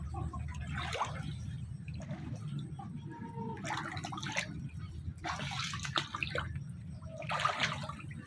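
Someone wading through floodwater in a flooded yard, boots pushing through deep water in repeated sloshing surges a second or two apart, close and fairly loud over a low background rumble.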